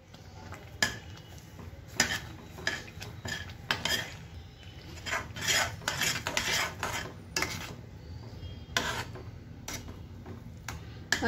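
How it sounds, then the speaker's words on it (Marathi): Walnut halwa with sugar being stirred and roasted in a pan, a spoon scraping and clinking against the metal in repeated bursts, close and distinct, with no voices. "आता छान असंच हे भाजून देणार आहोत आपण 7 ते 8 मिनिटं, पूर्ण घट्ट होऊन देणार आहोत त्याला"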